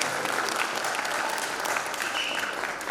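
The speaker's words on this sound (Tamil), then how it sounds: "இதெல்லாம் நீங்க கைத்தட்டலாம்" Audience in a cultural hall at a Tamil Sangam gathering in Bhopal claps steadily, a thick continuous round of applause with no voices over it.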